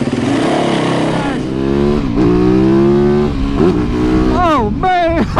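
A supermoto motorcycle engine catches after a weak restart battery and revs repeatedly, with rising and falling pitch sweeps over a steady loud idle, close to the microphone.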